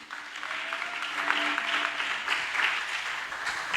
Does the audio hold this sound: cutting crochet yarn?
no